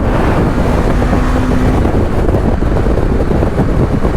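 Riding a 2020 BMW G310GS motorcycle brings constant loud wind buffeting on the microphone, a dense steady roar with the small engine's drone blended underneath and no voice.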